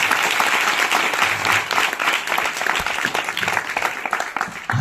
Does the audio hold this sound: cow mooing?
no